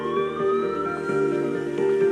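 Ambulance siren wailing steadily for a couple of seconds, a continuous rising and falling electronic tone, fairly loud and close, alone without talk, responding to a stroke patient emergency.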